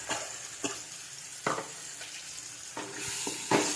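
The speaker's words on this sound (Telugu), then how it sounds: "ఇలా మొత్తం కలిపేసుకోవాలండి" Freshly ground red chilli chutney sizzles in a hot pan while a spatula stirs it, giving a continuous close frying hiss punctuated by repeated scraping strokes.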